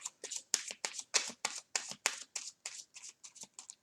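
Tarot-style Conjure oracle cards being shuffled by hand, a quick run of crisp riffling bursts repeating in a steady rhythm, close and moderately quiet with no talking.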